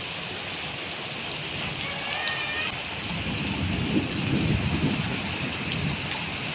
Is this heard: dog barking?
no